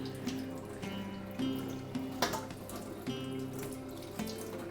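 Tap water runs steadily into a sink while a whisk is rinsed beneath it, with a few light metallic knocks and clinks over the continuous close splashing and no speech.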